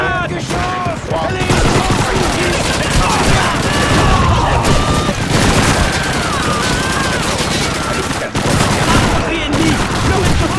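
Heavy gunfire in the World War II shooter Call of Duty 2, dense overlapping rifle and machine-gun bursts with booming impacts running almost nonstop at close range, with soldiers' voices shouting beneath the din.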